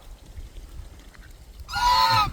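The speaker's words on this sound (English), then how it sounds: "I have a Canada goose" A lone Canada goose gives one loud, nasal honk close by after a quiet stretch of faint outdoor background noise at sundown.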